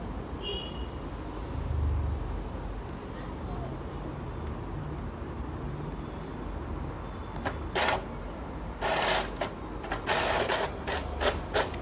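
A tattoo stencil printer runs a print job, a low mechanical whir followed by a rapid series of short clicking and feeding sounds toward the end, fairly quiet and close.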